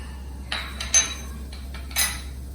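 A spoon scrapes and clinks in a tawa pan while whole spices like hing and fennel seeds are stirred: a few sparse metallic taps and scrapes over a steady low hum, close and fairly quiet.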